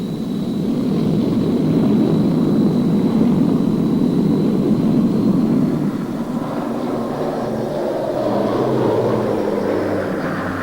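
A small propeller aircraft flies between Caribbean islands, making a steady, loud engine drone that fills the whole stretch without a break.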